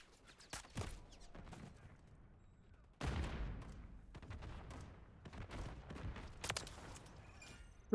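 Rifle fire from a Lachmann 556 in a first-person shooter video game comes in sharp bursts and single cracks, with louder volleys near the middle and end and quieter movement sounds in between.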